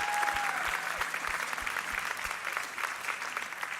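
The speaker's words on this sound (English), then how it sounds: "So can we just like give another round of applause for JR and Cassie?" An audience gives a round of applause for JR and Cassie at a gathering, steady dense clapping throughout from a crowd, fairly close and filling the room.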